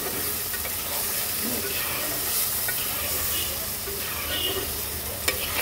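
Pieces of fried tengra fish being stirred in a pan and lightly fried, a continuous close sizzle and hiss with occasional scraping clicks of the utensil throughout.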